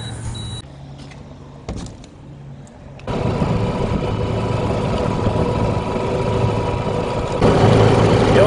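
A gasoline golf cart engine idles quietly and then rises into a louder, steady running drone after about three seconds, growing slightly louder again near the end, with no voices present.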